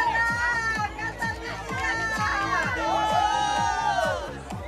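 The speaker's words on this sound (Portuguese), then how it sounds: "Aê, aplausos pra elas pessoal" Crowd cheering and shouting with many children's voices at a podium ceremony for the Corrida das Flores race in Holambra, SP, a steady continuous roar over rhythmic background music, with a voice talking over it.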